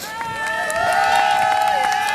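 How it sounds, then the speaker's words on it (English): An outdoor audience at a community event in a Detroit park claps and cheers to welcome a speaker to the podium, a loud steady wash of clapping with whistles and crowd voices mixed in. "Round of applause, please, for Chief Craig"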